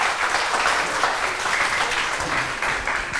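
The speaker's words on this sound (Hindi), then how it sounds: "तो जोर से तालियां बजाए ना" Students at a school clap together in a steady, dense burst of applause that holds at an even, moderate level throughout.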